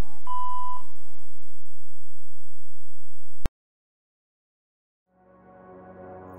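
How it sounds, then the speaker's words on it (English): An answering machine gives a single short, steady beep over a low hum. The line then falls silent before another sound fades in. "please leave a message after the tone"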